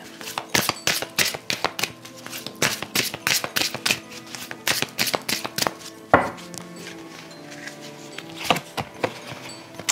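Tarot cards are shuffled close up in quick bursts of rapid riffling taps. A brief pause and a sharper knock come partway through before the shuffling resumes.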